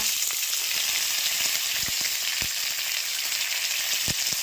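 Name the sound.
cumin and mustard seeds sizzling in hot oil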